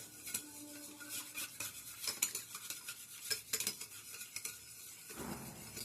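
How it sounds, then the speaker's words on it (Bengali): Sugar and agar agar powder stirred in a pot for watermelon jelly, a spoon scraping and clinking against the metal repeatedly at a close, moderate level, with a faint sizzle beneath and no talking. "যতক্ষণ না চিনি গলবে ততক্ষণ পর্যন্ত কিন্তু এইভাবেই নেড়ে চেড়ে ভালো করে মিশিয়ে নিতে হবে"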